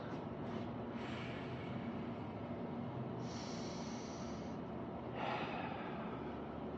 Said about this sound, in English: Inhaling through the nose and out through the mouth.